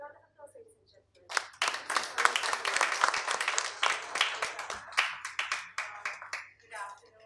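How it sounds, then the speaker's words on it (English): Audience at a campaign launch breaks into applause, quiet scattered claps building into a full round after a brief spoken introduction, fading toward the end. "A round of applause, ladies and gentlemen"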